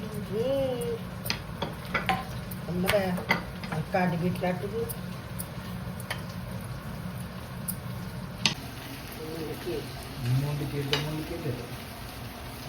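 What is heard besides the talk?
fish frying in oil on a tawa, Konkani style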